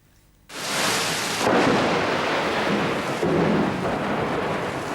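Heavy rain from an overnight city thunderstorm roars steadily from a sudden start, with low rumbling thunder swelling beneath the downpour; loud, continuous, and close.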